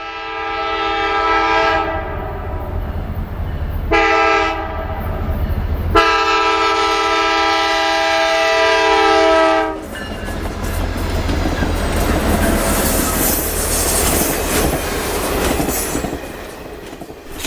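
A loud train horn blows in long blasts, then a special train bound for the Kentucky Derby rumbles past close by on the Norfolk Southern Dayton District, with rolling wheel noise.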